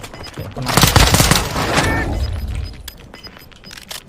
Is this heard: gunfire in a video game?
yes